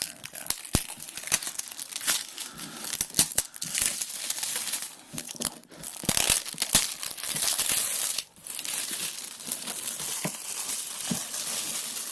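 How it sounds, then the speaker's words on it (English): A craft knife slices into the plastic-wrapped packaging of a Star Trek Fleet Captains board game box, giving repeated crinkling and tearing bursts with sharp crackles throughout, close and fairly loud, with no talking. "If I can get the X-Acto in there."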